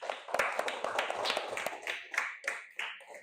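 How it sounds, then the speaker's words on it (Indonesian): A classroom of students clapping hands together in a burst of scattered, uneven claps that settle into a few distinct rhythmic claps toward the end. "Tepuk tangan dulu dong"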